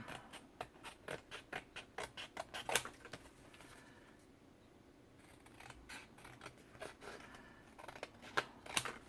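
Scissors trim the edge of a handmade paper booklet in quick, quiet, close snips, a run of crisp cuts, a short pause, then more scattered snips.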